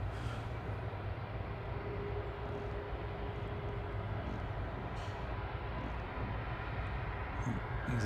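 An EasyJet airliner taxiing out at Manchester Airport, a faint, steady low engine drone and hum in the distance, continuous and even with no speech.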